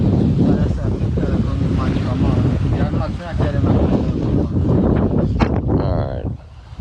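Gusty wind rushing across a phone microphone outdoors, a loud continuous low roar that fades near the end, with voices talking throughout.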